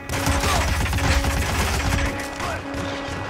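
Rapid bursts of gunfire from the video game Hitman crackle loudly in quick succession, a dense fusillade of shots that keeps going throughout, with no talk over it.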